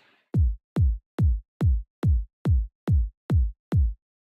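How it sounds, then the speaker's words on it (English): Eurodance-style punch kick drum programmed as a steady four-to-the-floor EDM pattern, with a layered top kick for the transient: nine evenly spaced, loud, deep thumps with a sharp click at each onset, played alone with no talking. "a Eurodance kick or a punch kick,"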